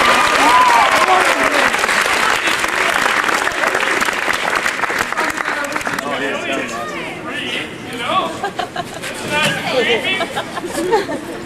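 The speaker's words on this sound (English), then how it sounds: "All right, clap! Everybody clap!" A high school improv show audience claps loudly and steadily, the applause thinning out into chatter and scattered voices toward the end.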